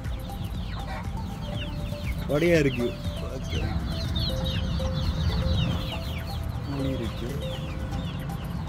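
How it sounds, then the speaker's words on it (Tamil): Chickens and chicks cluck and chirp around a Tamil village farm and fruit garden, with a rooster calling loudly near the middle, a steady busy flock close by, and a person speaking over them. "இங்கே எவ்வளோ கோழி குஞ்சிருக்குன்னு பார்த்தீங்கன்னா"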